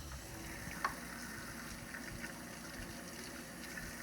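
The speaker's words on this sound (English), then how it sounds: "proper hand washing technique is to turn on our hot water" Hot water runs from a tap at a sink for hand washing, giving a steady, fairly quiet hiss and rush that holds evenly throughout with no voices.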